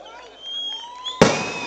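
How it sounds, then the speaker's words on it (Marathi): A sudden sharp burst of crackling at the end, over a noisy crowd background at an election rally in Kankavli, like firecrackers going off nearby. "फटाके थांबवा ना आता"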